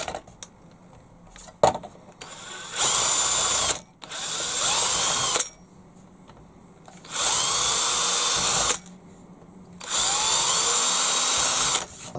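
A power drill bores 2.5mm bolt holes for an RC low loader conversion in three loud, steady whirring bursts of a few seconds each, separated by quiet gaps with faint handling clicks.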